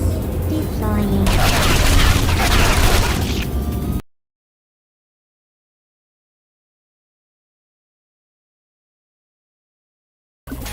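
A turret in the game Portal 2 fires a dense, rapid burst of gunfire for about four seconds, loud and close, with voices mixed in, then cuts to silence before a brief return at the end.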